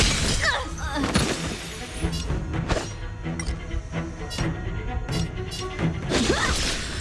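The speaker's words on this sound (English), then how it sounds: "Rock shattering slash!" Rock shattering slash attack in the Honkai video game: repeated heavy crashing, shattering impacts with whooshing swings, loud and continuous across the clip with dense debris-like bursts.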